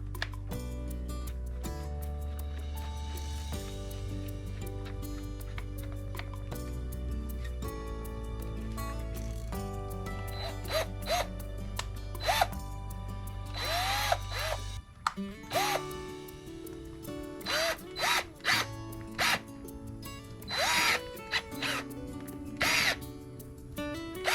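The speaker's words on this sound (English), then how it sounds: "I use my drill to till, and I'm going to do it again." A power drill used to till soil in a whiskey barrel planter whines steadily at first, then runs in short bursts and stops with gritty scraping as the bit churns the dirt, fairly close.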